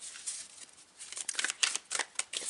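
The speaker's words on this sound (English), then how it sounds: "I love to shuffle in front of the camera." Tarot cards shuffled close by in a run of quick, papery riffling bursts that grow denser and louder toward the end, with no talking.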